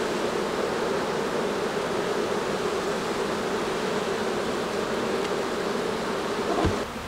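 Dense, steady buzzing of a small leftover colony of bees around a hive, continuous and close, with no voices.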